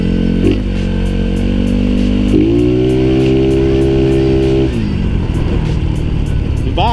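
An upgraded Yamaha Mio scooter engine drones loudly up close, revving up through rising pitch steps, holding a steady high whine, then dropping back to a rough idle-like burble near the end.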